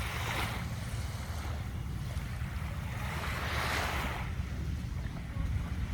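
Sea waves at Bang Saen beach, a steady low surf wash with two swelling surges of breaking water, mixed with wind rumble on the microphone and no voices.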